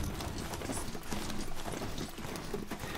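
Hooves clip-clop rapidly in a steady trotting rhythm, close and fairly loud against a busy background, a horse in the video game Horizon Zero Dawn.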